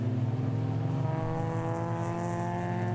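The high-vis Honda race car, number 900 and a new build, drones past with a steady, loud engine note that holds and shifts slightly in pitch throughout.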